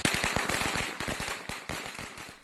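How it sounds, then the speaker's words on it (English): Firecrackers set off by spectators crackle in rapid, irregular bursts of sharp pops, loud and continuous over a couple of seconds with no voices. "some of our pesky spectators have been lighting firecrackers"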